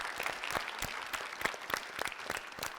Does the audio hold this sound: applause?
yes